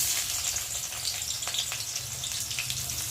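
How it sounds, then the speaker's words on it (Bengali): Chopped onion hits hot oil in a wok, giving a steady close sizzle and hiss with a few small crackles. "এখন কড়াইতে তেল দিয়েছি, আর এখন দেব পেঁয়াজ কুচি"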